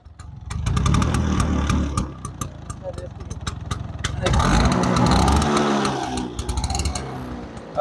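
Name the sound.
Bajaj Chetak scooter exhaust sound while running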